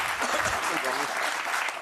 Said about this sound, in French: Gardez vos applaudissements pour les vrais connards qui arrivent.